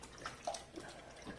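Lettuce shaken by hand in a bowl or sink of water to wash off soil, giving faint soft sloshes and small splashes over about a second and a half.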